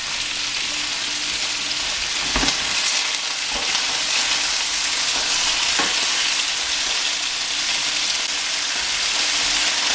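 Leeks and other vegetables softening in oil in a pan, a steady close sizzle that runs throughout, broken by a few brief stirring scrapes and no speech.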